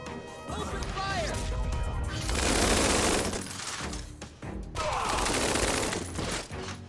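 Tiny Metal riflemen opening fire in a strategy game: two sustained bursts of crackling gunfire and crashing impacts, loud and dense, layered over game music.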